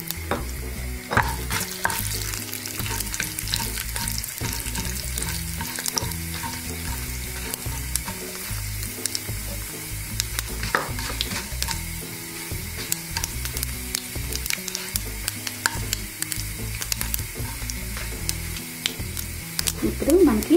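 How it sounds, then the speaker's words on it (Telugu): Tempering spices fry in two spoons of oil in a pan, a steady loud sizzle with frequent stirring scrapes and clinks throughout, while a voice speaks intermittently over the cooking. "ప్యాన్లో ఆయిల్ వేసుకుని, ఆయిల్ 2 స్పూన్లు"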